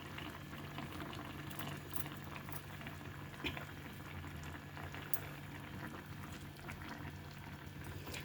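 Raw banana and egg curry simmering on low heat in a covered pot, a steady soft bubbling hiss with faint pops, continuous and even throughout with no voices.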